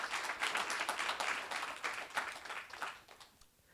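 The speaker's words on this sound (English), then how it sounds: "Give a round of applause for these guys." Audience applause for a diverse panel of speakers on stage at a student tech careers event, a moderate, fairly sparse patter of individual claps that thins out and fades toward the end.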